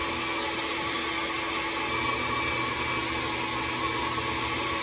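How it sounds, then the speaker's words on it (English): A hair dryer blows steadily on freshly dyed hair, a loud continuous whooshing roar with a faint whine held throughout, close by and with no talking. "Just let me dry it."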